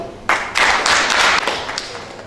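Pharmacists' New Year greetings ceremony in Katanga: an audience breaks into clapping that swells to a dense, steady wash of applause for a few seconds, then thins slightly while continuing.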